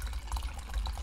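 Liquid is poured into a big gulp cup with a continuous splashing, trickling fill sound, close and fairly loud, with no talk over it.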